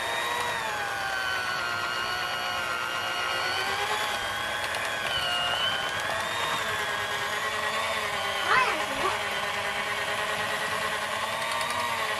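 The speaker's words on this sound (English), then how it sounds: "Oh, it's going to the blender." A kitchen blender whirs steadily at close range for the full stretch while preparing a twice-baked potato filling, its motor pitch wavering slightly, with a brief clunk near the end.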